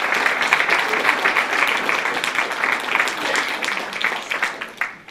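Audience applause at a borough council meeting in La Baie, a steady wash of many hands clapping that tapers off at the end.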